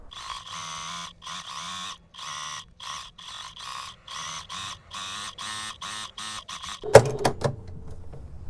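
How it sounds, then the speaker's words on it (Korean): A sewing machine runs topstitching along the neckline of a toddler's dress, humming close in a dozen short start-stop bursts before a clattering handling noise at the end. "여기는 뚫려 있고 박음질이 된 이 부분을 눌러서 스티치 만들어 줄게요."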